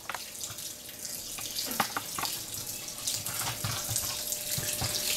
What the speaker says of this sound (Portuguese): Vai acender a luz da lavagem e ela vai começar a encher de água.